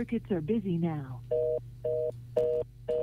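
Telephone line tones sound on a radio call-in show: a short warbling sweep, then a steady series of even, evenly spaced beeps like a busy signal, clear and alone.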